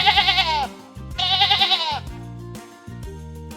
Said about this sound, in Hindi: सुरक्षा के लिए भेड़ें अक्सर झुंड में रहती हैं। वे बाबा की आवाज निकालते हैं।